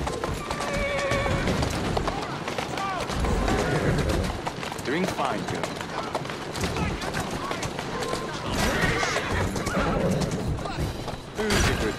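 Horse hooves clopping steadily with a whinny in the video game Assassin's Creed Syndicate, birds cooing behind, and a person speaking softly over the sounds.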